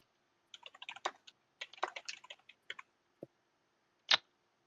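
Typing on a computer keyboard during an online Twilight Imperium tournament game: close, quick bursts of keystrokes in uneven clusters, followed by a few isolated clicks, with no talking.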